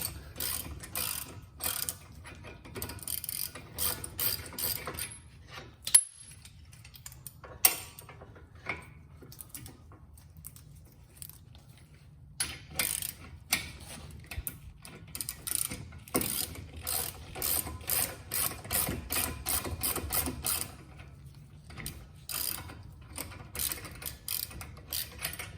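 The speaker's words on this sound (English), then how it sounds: "is just compressing the pistons back in so you can get the brake pads out" Repeated ratchet clicks from a tool compressing the front brake caliper pistons on a Porsche Cayenne, coming in uneven bursts of close, crisp ticking with brief pauses in between.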